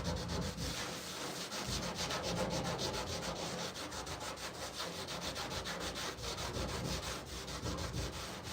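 Thick blobs of paint being scraped and picked off a white-painted panel during stripping, a steady, close, continuous rasping scrape with rapid rhythmic strokes throughout, no voices.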